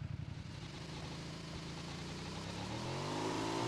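A motorcycle in the video game PUBG Mobile, its engine a steady mid-pitched drone that grows gradually louder and rises in pitch as it approaches, with no talk over it.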